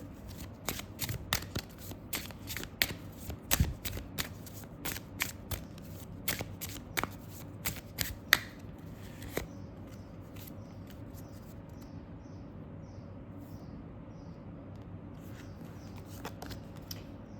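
A tarot card deck is shuffled close up with rapid crisp riffles and taps that come in quick clusters, then stop, leaving quiet room tone with a few faint clicks.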